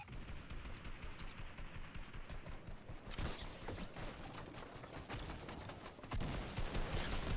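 Rapid bursts of gunfire from a Fortnite match, with repeated sharp cracks and mechanical clatter, intensifying with louder volleys midway and near the end.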